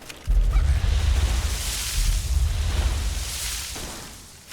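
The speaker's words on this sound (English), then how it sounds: "Anything that landed in the water is making the explosion sound effect." In the Fallout: Tale of Two Wastelands game, a dog landing in water sets off an explosion sound effect: a sudden loud, deep boom with a long rumbling roar that slowly fades over several seconds, with no voices.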